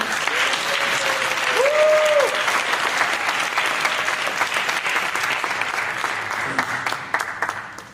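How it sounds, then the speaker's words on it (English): Sustained audience applause fills the room after a Bharatanatyam arangetram dance performance, dense and steady clapping throughout with a brief cheer-like tone early on. "Let's give another round of applause for that whirlwind of a performance."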